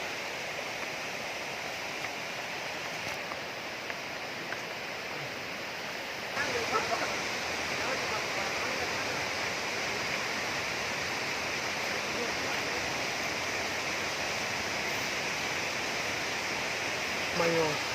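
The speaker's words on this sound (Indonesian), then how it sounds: "Inilah air terjun Karbon." Karmon waterfall in North Biak pours in a steady, full-band rush of falling water, constant and close throughout, growing slightly louder partway through, with no voices standing out.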